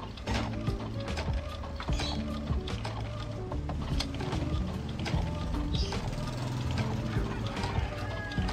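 An Epson printer runs a print job, giving a steady, fairly loud mechanical whirr with busy clicking and gear-like chatter throughout.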